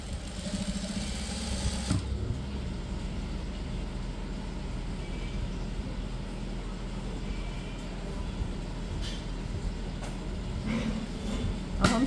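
A sewing machine runs steadily while stitching the side seam of a heavy bridal lehenga, a continuous low mechanical hum with a sharper onset near the start.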